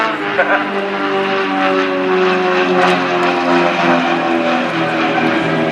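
Display aircraft performing individual rolls at the Royal International Air Tattoo at RAF Fairford, a steady, loud propeller engine drone with a harmonic whine that holds throughout, near and continuous without interruption.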